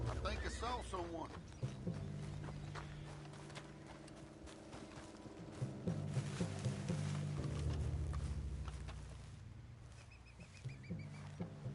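A horse spooks in Red Dead Redemption 2, giving a sharp whinny at the start, followed by hoof clops and restless stamping under a low, continuous game soundtrack and voices.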